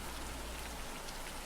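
Rain in the visual novel game Deluge, a dense, continuous patter falling on a surface, steady and fairly soft, with nothing else heard.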